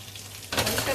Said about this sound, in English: The sage is frying up